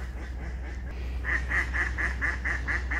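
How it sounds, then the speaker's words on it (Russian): Ducks in a seaside town park in Zelenogradsk, Kaliningrad region, in late October, giving a quick run of about eight evenly spaced quacks after a quiet start, over a low steady background hum. "Я так думаю, утки наши никуда не улетят."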